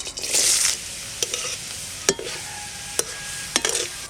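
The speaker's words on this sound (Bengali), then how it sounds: "মাছ ভাজা তেলেই ফোরমটা দিয়ে দেব আজকে ফোরমে দেবো শুধু রসুন" Chopped garlic sizzles in oil left over from frying fish for a tempering, a steady close hiss broken by several sharp clicks of a utensil against the pan, with no talk.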